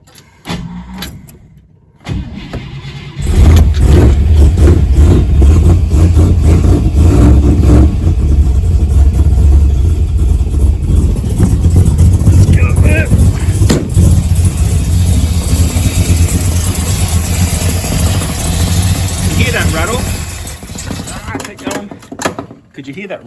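A 1957 car engine revs loud and close with its choke on, a steady low rumble that rises and falls for about twenty seconds, with loose valve covers rattling against the body. Voices talk over it.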